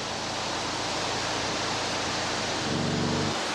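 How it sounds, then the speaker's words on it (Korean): Guanyin waterfall on the Tea Horse Road, meltwater from Haba Snow Mountain pouring down a gorge cliff, a dense, loud, unbroken roar filling the whole clip. "물소리가 나기 시작합니다. 폭포에 도착합니다."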